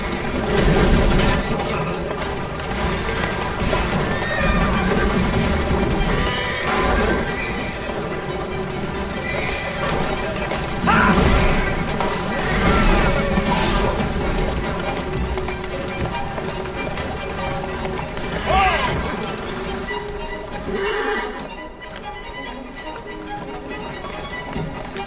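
Horse-drawn carriages race and crash through a street chase in Assassin's Creed Syndicate, with continuous galloping hooves, whinnies, rattling wheels and impact booms forming a dense, loud mix, broken by brief character dialogue.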